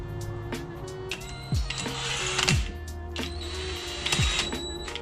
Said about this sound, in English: So I'm gonna tighten these one by one with the impact, just very lightly.